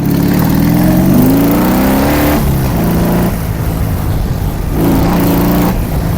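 A motorcycle engine revs loud and close near a quarry, its pitch climbing, dipping and rising again in surges over continuous mechanical roar.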